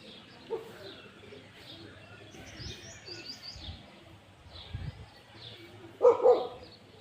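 Pigeons coo softly in the background around a loft as birds are released in cloudy weather, faint and intermittent, with no talk.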